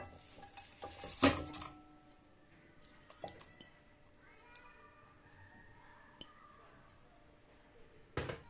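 Ingredients tipped into a cooking pot for paella, with a loud rattling pour early on, then scattered metallic clinks and soft scrapes of the pot and utensils, ending in a brief clatter.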